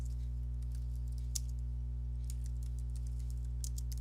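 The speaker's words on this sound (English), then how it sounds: "at this point, you can type in a text" Light, irregular key clicks from text being typed on a computer keyboard, soft and close, scattered in small bursts over a steady low electrical hum.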